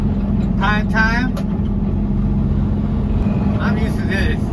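Bay Area road traffic heard from the cab of a 2019 Kenworth super dump truck: a steady loud engine rumble and road roar throughout, with a voice speaking briefly over it.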